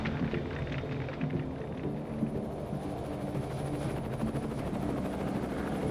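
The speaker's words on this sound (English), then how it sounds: "It's the piece of weaponry most feared by the rebels, a Soviet helicopter gunship." Soviet Mi-24 helicopter gunship passing overhead, a steady loud rotor thrum and rumbling engine roar with fine regular blade chop sustained across the whole stretch, no voices.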